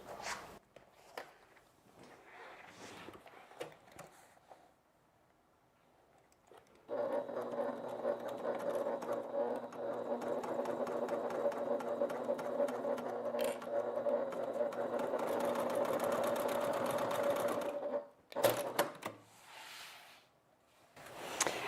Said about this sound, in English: I'm going to stitch that seam